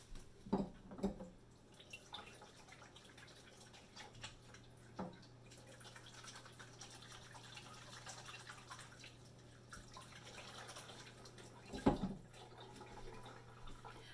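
Water splashing and dripping at a tap while hands are rinsed of raw soap, a steady wash with a few sharper splashes near the start and one louder splash late on.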